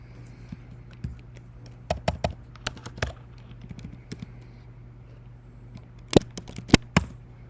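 A computer keyboard is typed on, ending with a press of the enter key. Scattered bursts of crisp key clicks and taps come in short clusters, close-up, over a low background hum, with no voices.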